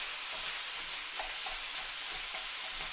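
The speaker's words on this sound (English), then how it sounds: "I'm going to stir this around and I'm going to start to crumble it" Ground beef sizzles steadily in a hot pan while it is stirred and broken into crumbles, with a continuous close hiss and faint scraping taps from the utensil.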